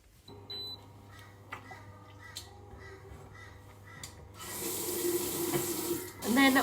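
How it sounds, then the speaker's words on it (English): A tap is turned on and water runs into a sink while a tray is rinsed, quiet at first and then a loud steady gush that splashes near the end. "I'm just gonna rinse the tray out"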